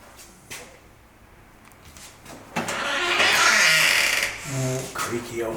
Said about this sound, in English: Creaky old door, classic.